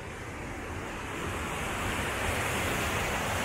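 A small river flows at a campsite in Zweibrücken, Rhineland-Palatinate, giving a steady, fairly loud broadband rush of water with some wind noise and no talk.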